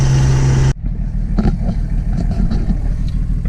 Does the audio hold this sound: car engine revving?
yes